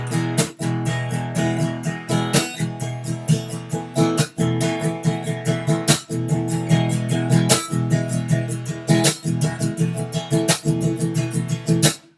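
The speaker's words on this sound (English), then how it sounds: "I'll put a snare hit on 2 and 4, so it sounds like this." A drum kit playing an even sixteenth-note groove with the snare landing on beats two and four, steady busy hits and strong backbeats running continuously, loud and close.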